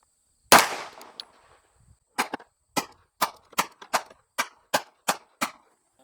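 Sharp gunshots from a firearm fitted with an Arory RMU1 red dot sight: one loud opening shot with a trailing echo, then after a pause nine more evenly spaced shots in a steady rhythm, close and clear with no talking.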